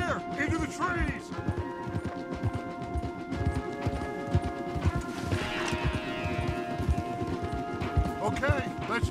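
Horses gallop in Red Dead Redemption 2 with rapid, dense hoofbeats all the way through, loud and close, while characters talk over the riding.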